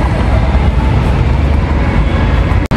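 Steady rumbling noise at an LRT light rail station in Metro Manila, with broadband train and platform din running continuously and fairly loud, and no voices heard.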